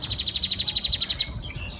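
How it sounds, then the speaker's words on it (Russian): Noisy birds in Austin, Texas chirp in a fast, even run of bright, rapid repeated notes, loud and close, then break off into a few scattered calls. "И, конечно, птицы, которые безумно, безумно шумные, особенно по утрам."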